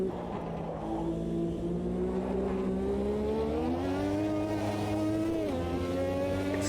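A Formula 1 car in a racing video game, turbo set to full, howls through a lap with one sustained engine tone that climbs in pitch, dips sharply on a gearshift, then rises again, loud and with no voices.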